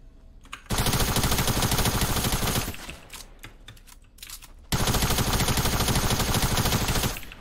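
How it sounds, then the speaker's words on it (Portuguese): Rapid automatic gunfire in a battle royale shooter game, two long sustained bursts of dense, loud shots separated by a quieter pause of scattered clicks, with no talk over it. "Um tiro, eu acho que é um tiro."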